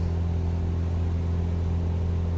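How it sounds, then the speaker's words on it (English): A general aviation aircraft engine drones at full takeoff power in a VR flight simulator near Sedona, a steady loud hum with strong low tones that holds without change. "Get full thrust, brakes off."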